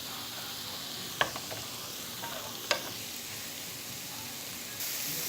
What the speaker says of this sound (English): I let these cook with the garlic now